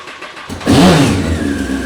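A 954 motorcycle, unused for about seven months, cranks briefly and then fires up into a loud, close rev that settles into a rough, uneven running note; no talk.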